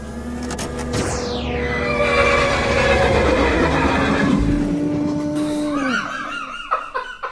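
A loud horse neigh sound effect inserted in a podcast, a long, quavering whinny that swoops down in pitch, followed by snorting and sputtering at the end.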